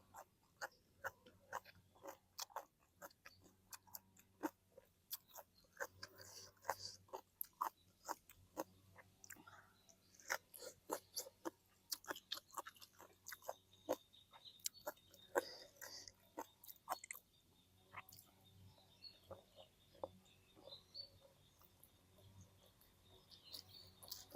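Crunchy chewing and biting of spicy green papaya salad eaten with giant octopus tentacles, close and steady with repeated crisp bites and wet mouth sounds through most of the stretch.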